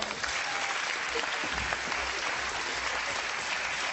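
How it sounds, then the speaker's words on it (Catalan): An audience claps for a boy at a magic show, the applause steady and dense from start to finish, close and full with no voices rising above it. "Un aplaudiment pel noi, si plau."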